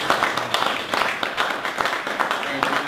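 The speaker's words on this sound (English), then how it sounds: "let's give Sean Hickey a big round of applause" An audience applauds to welcome a speaker onto a conference stage, a steady wash of many hands clapping close by for the whole stretch, with a few voices mixed faintly underneath.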